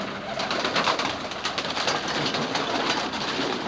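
English Roller pigeons shuffle and flutter inside a box, a busy, close, continuous rustle and scratching with irregular clattering bursts.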